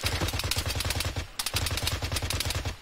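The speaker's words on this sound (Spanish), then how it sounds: "Están disparándonos a nosotros a través de la pared" Rapid automatic gunfire from ArmA 3, a military shooter, rattles loud and close in two sustained bursts of tightly spaced shots with a short pause between them, with no talk over it.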